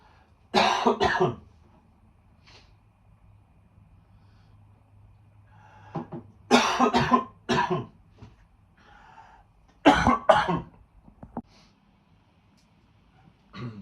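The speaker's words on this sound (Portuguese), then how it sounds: "Deu uma crise de tosse em mim" Three separate bursts of harsh, hacking coughs, each a cluster of two or three coughs, close by with quiet pauses between them.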